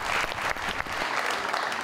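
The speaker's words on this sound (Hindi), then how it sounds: "बहुत सारी तालियों में।" Studio audience on a television talk show breaking into applause, a brief, dense burst of clapping from a crowd heard clearly on its own.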